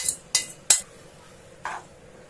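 A spoon stirs sweet filling in a pan over a low flame, giving a few sharp metallic clinks and scrapes spaced apart, close and fairly quiet with no talk.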